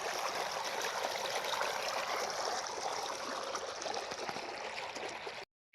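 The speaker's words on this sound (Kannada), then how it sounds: "ನೀರು ಕವಲಿ ಹೊಡೆದೀನಿ, ನೀರು ಹೊಂಟವ." Water rushes from a motor pump into a farm irrigation channel, a loud, continuous close flow with a gurgling wash, then a sudden cut-off near the end, with no voices.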